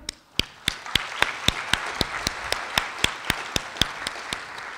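An audience at a school district's Parent of the Year event claps steadily, the sharp claps coming in an even rhythm of roughly three per second and sounding close, with no talking over them.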